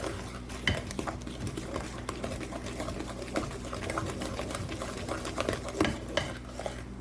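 Oatmeal chocolate chip cookie dough creamed by hand with margarine or butter in a bowl, a steady close scraping and stirring with frequent small clinks of utensil against the bowl, continuous for several seconds with no talk.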